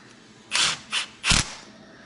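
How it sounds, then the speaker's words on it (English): An impact wrench running alternator bracket bolts on a Duramax diesel engine, three short close bursts of hammering whir with brief pauses between, no talk. "I'm gonna run them in with an impact just to save some time."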